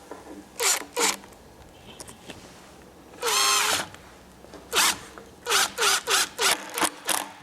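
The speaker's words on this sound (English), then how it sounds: "I'll just go ahead and drive this screw in until it's tight." A power drill drives a screw into a Murphy desk bed in a series of short whirring bursts, one longer sustained run in the middle, then quick repeated pulses as the screw tightens, close and clear.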